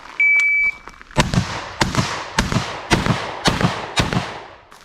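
A shot timer's steady electronic beep, then six loud, sharp blasts from a Beretta 1301 Tactical LE shotgun at a 25-yard drill, fired in a quick, even string of roughly one every half second.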